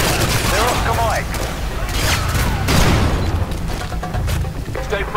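Dense gunfire from the video game Call of Duty Modern Warfare 2 comes as loud overlapping bursts and booms, with shouted voices mixed into the din.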